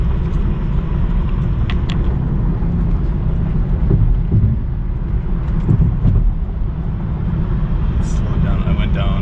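A 2016-2017 second-generation Chevy Cruze accelerating up a hill, heard from inside as a loud, steady low engine and road rumble that runs throughout.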